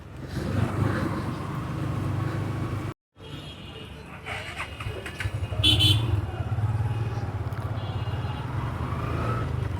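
A motorcycle engine drones steadily up close amid city traffic in Dhaka, with a short dropout and a passing vehicle swell midway; a voice speaks faintly underneath.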